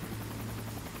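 Steady helicopter rotor drone from the video game Call of Duty: Ghosts, a continuous low thrumming hum holding evenly throughout, moderately loud and alone with no talk.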